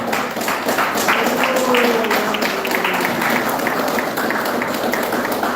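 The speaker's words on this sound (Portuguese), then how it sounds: "Pode glorificar a Deus com as palmas" A church congregation gives steady, sustained applause, many hands clapping together in a dense wash, with faint voices mixed in underneath.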